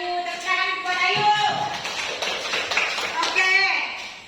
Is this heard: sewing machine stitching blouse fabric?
no